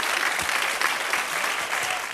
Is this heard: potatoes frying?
no